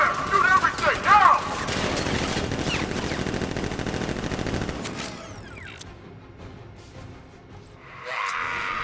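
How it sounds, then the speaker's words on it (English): Heavy sustained gunfire in the video game Batman: Arkham Knight, a dense barrage of overlapping shots and impacts under shouting voices that gives way to quieter mechanical rumble and a brief hiss at the end. "Guns! Open fire! Shoot everything! Now!"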